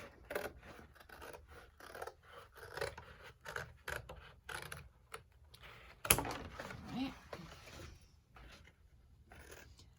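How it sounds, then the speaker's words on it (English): Scissors snip around the edges of a handmade craft piece, a run of quiet short cuts in irregular rhythm with a louder rustle midway, under soft intermittent talking. "So I'm just cutting off all the edges on this."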